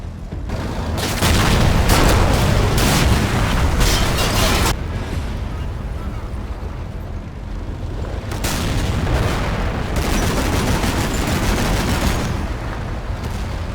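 M60 tanks firing their guns at T-64s in Combat Mission Cold War, heavy booming shots in a couple of loud bursts with rumbling tails and a sustained din of battle between them.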